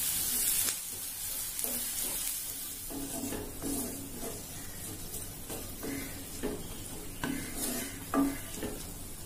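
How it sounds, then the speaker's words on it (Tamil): Onions sautéing in a pan for a Nagercoil-style prawn thokku, a steady close sizzle broken by repeated scraping stirs of a spatula against the metal, with no talking. "வெங்காயம் கொஞ்சம் வதங்கட்டும்."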